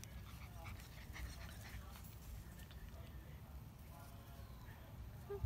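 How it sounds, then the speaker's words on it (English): Five-week-old puppies eating and whimpering, soft faint whines and snuffling amid low rustling, with a person talking quietly nearby. "Puppies play. Puppies eat."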